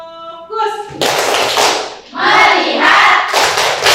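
A group of adults claps a rhythmic focus routine in a training session, several bursts of clapping in a pattern, loud and close, with voices chanting along over the claps.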